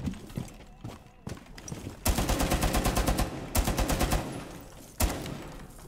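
Tachanka's reworked machine gun from Rainbow Six Siege fires in rapid bursts, a dense rattling volley of about twenty rounds followed by shorter bursts and single loud shots, close and punchy with faint sounds between.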